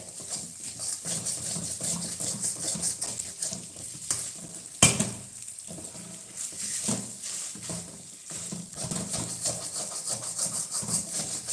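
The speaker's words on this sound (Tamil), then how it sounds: "நம்ம நல்லா இதை இந்த மாதிரி உடச்சி விட்டு கலரிட்டே இருந்தோம்னா" Dough being stirred and broken up in oil in a pan for ukkali, a soft continuous sizzle with repeated scraping and stirring strokes, close by, with one sharp knock of the utensil midway.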